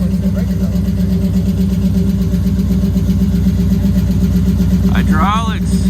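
A V8-swapped Mazda Miata engine runs loud and steady at a car show, its deep idle rumble throbbing continuously throughout, with a brief burst of excited voices near the end.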